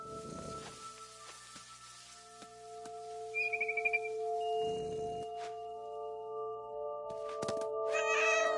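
A cat meows a few times in the video game What Remains of Edith Finch, soft short cries set against a quiet ambient music bed, with faint bird chirps and light thuds nearby.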